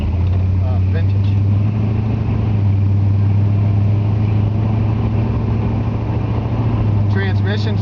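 A 1963 Ford Galaxie convertible with its original 390 V8 cruising along, giving a steady, deep engine drone that holds throughout while people talk over it.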